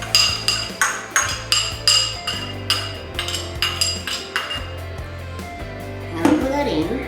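A little spoon clinks rhythmically against a bowl while diced ingredients go in for akara, about twenty bright evenly spaced taps close by, ending in a brief scraping shuffle.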